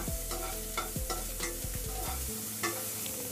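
Onions sautéing in oil in a pan for drumstick-leaf poriyal, a constant close sizzle broken by several spatula scrapes and knocks against the pan, with no talking.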